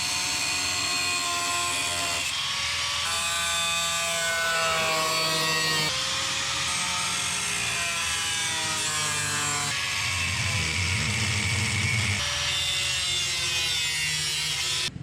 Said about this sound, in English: why I started grinding just a square piece right now